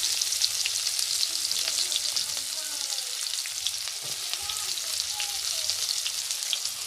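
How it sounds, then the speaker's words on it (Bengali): Onion and garlic fry in hot oil in a pan, giving a loud, continuous, close hiss and crackle with faint scraping from stirring now and then. "তারপরে পেঁয়াজ রসুনটা দিয়ে দিলাম।"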